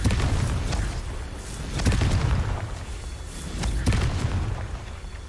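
Confringo spell explosions in a Harry Potter–style magic game, deep rumbling booms swelling in two or three waves over dense, noisy action sound.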